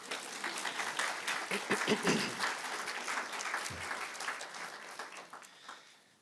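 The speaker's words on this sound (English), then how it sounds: "We can clap for Miranda." Listeners at a lecture applaud the arriving keynote speaker, a curator, with a steady wash of many hands clapping at moderate loudness that swells briefly and then fades out, with a little talk mixed in.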